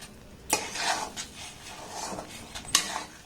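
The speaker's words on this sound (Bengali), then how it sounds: "দিয়ে এটাকে এইভাবে অনবরত নাড়তে হবে" A spoon scrapes and knocks against a pan while chana dal cooked with milk is stirred continuously over low heat: a few sharp metallic clinks between softer scraping strokes, close and fairly quiet.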